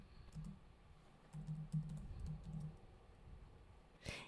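Terminal commands being typed on a computer keyboard while working on a web server: a short run of soft, close key clicks in a quiet room, followed by a brief sharper tap near the end.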